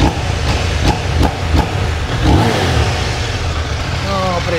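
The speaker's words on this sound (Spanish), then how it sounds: "Suena un monocilíndrico hermoso" A single-cylinder Husqvarna motorcycle engine revs loudly and close by, its rough, steady roar carrying a brief rising sweep midway through, with faint voices in the background.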